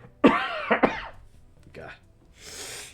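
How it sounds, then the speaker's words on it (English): A person coughs twice in quick succession, close and loud, followed by a softer throat sound and a breathy exhale. "I got a cough."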